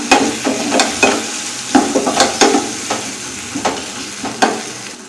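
Masala with coriander powder being sautéed and stirred for mutton uppukanda kulambu, a steady close sizzle broken by repeated spoon scrapes and stirring knocks against the pan, with no talk.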